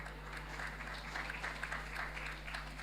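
An audience at a live CARIFESTA XV conversation event in Barbados claps in a soft, continuous patter of applause heard at a distance over a low steady hum, without speech.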